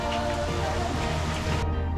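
Steady, dense rain pours down around a rented houseboat transferring between Eldenburg and Granzow, a loud continuous wash of drops drumming on the boat with no talk, ending in a sudden dip in the highest hiss.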